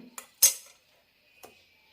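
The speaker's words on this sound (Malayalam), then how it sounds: "കുക്കറിലേക്ക് ഒരു കപ്പ് വെള്ളം ഒഴിച്ചിട്ടുണ്ട് ഇതിലേക്ക് ഇതുപോലൊരു തട്ട് വയ്ക്കാം" A metal plate is set inside a pressure cooker holding a cup of water, giving a few sharp metallic clinks and one louder clank, then near silence.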